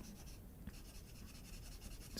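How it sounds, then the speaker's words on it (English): Pencil colouring in on paper, filled in section by section: a steady, close scratchy rasp of graphite strokes running continuously and alone, with a few brief taps. "So I find with colouring in, do it section by section."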